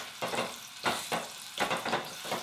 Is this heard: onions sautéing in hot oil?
yes